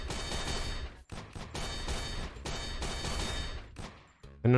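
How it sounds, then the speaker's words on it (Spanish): Gunfire from the Aim Lab aim-training game comes in rapid bursts of dense shots, pausing briefly between volleys, loud and close, with no one talking over it. "estoy tirando tiros al pedo, eh"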